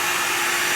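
Air blown across alcohol ink to soften its edge makes a short, steady, breathy rush, close and fairly quiet, with no talk.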